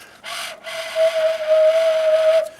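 A homemade wax paper flute is blown, giving a short breathy puff and then a sustained, steady reedy whistle that holds for more than a second before stopping abruptly.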